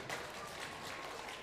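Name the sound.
audience applause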